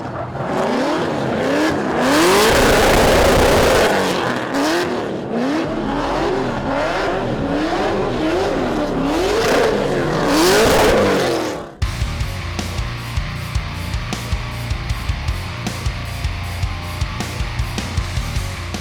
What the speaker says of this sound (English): there are some skids going on behind us